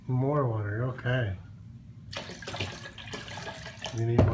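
Tap water runs steadily into a container while Kool-Aid is being mixed, a broad hiss after a few seconds of close talking, with speech returning at the end.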